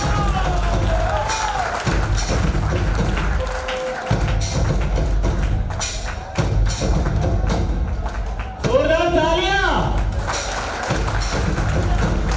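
An audience at a community event in Mumbai claps and cheers loudly and continuously, a dense crowd roar with scattered thuds and a voice cutting through the noise.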